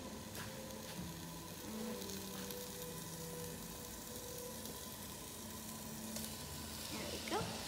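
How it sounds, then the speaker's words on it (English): Ground turkey and red bell peppers sizzle in a hot pan, a steady, even frying hiss throughout at moderate level with faint background hum and an occasional stir. "Oh, I love the sound of sizzles."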